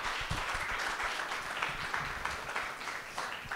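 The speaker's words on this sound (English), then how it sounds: "give yourselves a round of applause, all the students" Steady applause from a crowd at a web development bootcamp demo day in Melbourne, dense clapping filling the whole stretch at an even loudness, with no voices standing out.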